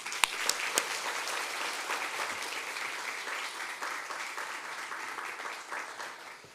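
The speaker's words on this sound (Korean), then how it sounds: "나오실 때 환영의 박수를 부탁드립니다." Warm applause fills a church at a Sunday morning service, welcoming a navy chaplain pastor to the pulpit; dense, steady clapping from the congregation runs throughout without speech.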